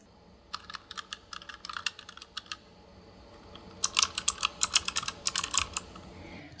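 Rapid clicky keystrokes from a TUF Gaming K7 keyboard with tactile optical mechanical switches, a burst of typing, a pause, then a denser, louder run of crisp clicks.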